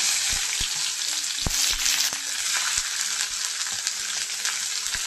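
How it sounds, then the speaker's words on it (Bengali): Chopped onion goes into a pan after cumin seeds have fried in the oil. A dense, steady sizzle runs throughout, with occasional knocks and scrapes of stirring, for a paneer and broccoli dish. "একটু ভালো করে নাড়িয়ে চেড়ে পেঁয়াজটাকে হালকা করে ভেজে নেব।"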